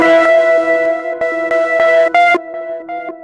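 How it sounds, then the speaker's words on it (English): Hip hop beat built from chopped samples on an Akai MPC 1000, with a delay effect adding echoing repeats behind a steady pattern of tonal stabs and sharp cuts; loud and close, no talking. "you can hear that delay effect in the background."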